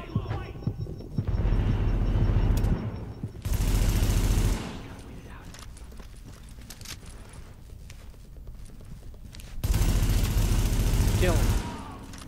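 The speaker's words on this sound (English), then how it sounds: "I'm getting shot right now" Bursts of automatic gunfire from enemies in Tom Clancy's The Division, loud and close, coming in several heavy volleys with quieter gaps of scattered shots and game noise between them.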